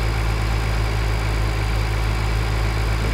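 Tractor engine in Farming Simulator 2013 idling steadily with a low, constant drone and faint vibration, loud and continuous with no talk over it.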